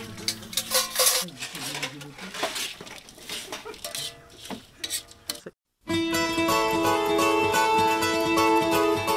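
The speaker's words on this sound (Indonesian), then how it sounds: "cakalang goreng dicampurkan dan diaduk sampai merata." Fried skipjack tuna shreds being stirred in a pan for abon cakalang, with scraping and clinking of the utensil against the pan, then music takes over after a brief silence.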